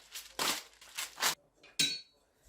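Vegetable soup with broth and seasoning being stirred gently in a pot, giving several soft scraping and clinking bursts of a utensil against the pot, close and fairly quiet, with no talk.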